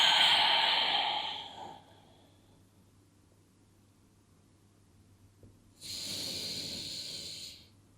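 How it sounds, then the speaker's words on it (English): Two long exhales through the nose during a lower-back stretching exercise with a foam roller, each a close, breathy hiss lasting over a second, separated by a quiet pause with no talk. "exhaling through the nose"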